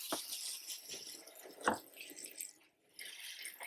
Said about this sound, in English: we're going to water everything in